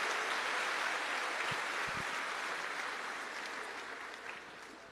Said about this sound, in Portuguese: Vamos aplaudir a Ele.